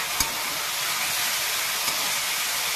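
Spice paste sizzling steadily in a hot pan for a Bengali data-alu (drumstick and potato) curry, a continuous close frying hiss with a couple of faint clicks of a spoon against the pan, no talking.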